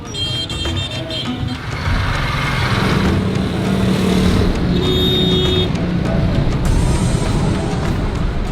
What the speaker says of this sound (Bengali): মাঝখানে চলছে অবিশ্বাস্য পরিমাণে যানচট